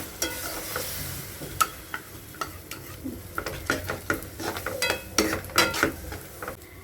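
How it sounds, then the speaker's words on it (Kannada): Tomato and onion frying in a pan as a gram flour and water mix is stirred in; a soft continuous sizzle runs under repeated spoon scrapes and clinks against the pan, close and moderately loud. "ಇವಾಗ ಟೊಮೊಟೊ ಈರುಳ್ಳಿ ಎಲ್ಲ ಚೆನ್ನಾಗಿ ಫ್ರೈ ಆಗಿದೆ"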